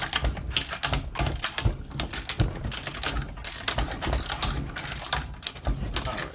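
A wrench ratchets in quick clicking bursts while loosening a bolt on a 1969 Mustang fastback spindle, close and fairly quiet, with brief pauses between runs of clicks.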